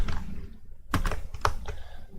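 Keys on a computer keyboard tapped while code is typed, a few scattered clicks with a pair of sharper strikes, close and fairly quiet with no talking.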